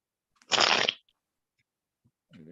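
Tarot cards are shuffled in one quick, close riffle lasting about half a second, followed by silence and then a brief voice at the very end.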